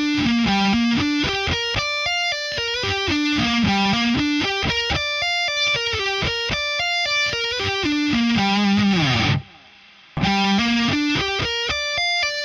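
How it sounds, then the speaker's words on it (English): Distorted electric guitar playing a minor 7 sweep arpeggio slowly, mixing five-string and three-string sweeps, clear rising and falling note patterns with a short pause near the end. "we're going to play a minor 7 arpeggio, but it's going to be a mixture of 5 string and 3 string sweeps"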